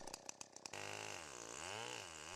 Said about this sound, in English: The chainsaw is equipped with a V8 engine that provides substantial cutting power